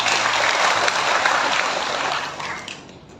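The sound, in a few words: audience applause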